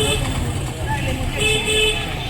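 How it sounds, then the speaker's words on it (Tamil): Heavy traffic jam on a Kolkata street, with car and bus horns tooting repeatedly over a dense, steady roar of road traffic while people talk nearby. "கொல்கத்தா செம்ம ஜாம் ஆகுது."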